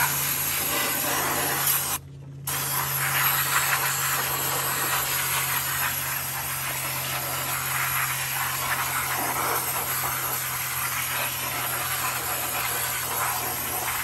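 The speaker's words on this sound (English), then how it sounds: "there's only one tool for fixing everything, and that's to rebuild it with brake cleaner" Brake cleaner sprayed onto drum brake parts of a 1969 Dodge Dart, a steady close aerosol hiss running nearly continuously for about fourteen seconds with one short pause early on.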